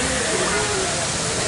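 An indoor decorative waterfall at El Salvador's airport at night pours steadily, a loud, continuous rushing wash of water filling the space.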